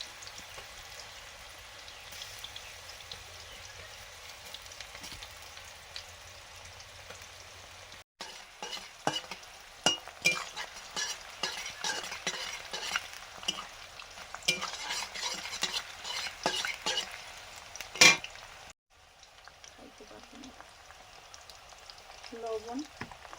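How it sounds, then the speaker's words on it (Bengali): Crispy raw banana chips frying in oil give a steady bubbling sizzle that grows busier and louder midway, with frequent stirring scrapes and a sharp clink near the end. "কাঁচকলার একটা ক্রিস্পি চিপস ভাজা হচ্ছে"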